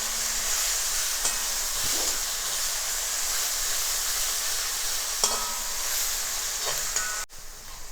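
Crushed ginger, garlic and green chili paste frying in hot oil for a Kerala fish pickle, a steady close sizzle and hiss with occasional stirring scrapes and clinks, no voices.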